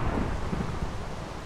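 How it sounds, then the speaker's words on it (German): Rain and thunder in the survival video game After Humans: a deep rolling rumble over steady rain hiss, moderately quiet and continuous, with no talk. "Es regnet schon wieder."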